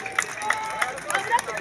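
Audience at a youth health-insurance awareness parade clapping in uneven bursts with scattered high calls, lively and close over background crowd noise.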